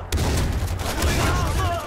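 Shotgun blasts from Far Cry 4 boom repeatedly in quick succession, loud and close, with dense game noise filling the gaps between shots.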